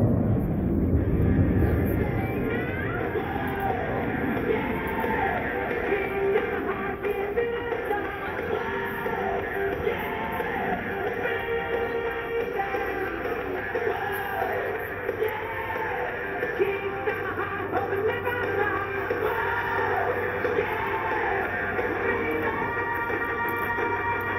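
Blue Angels jets roar steadily overhead at an outdoor air show in Terre Haute, a loud continuous jet-engine drone with swelling and sweeping tones as the formation rolls after takeoff, with faint crowd noise beneath.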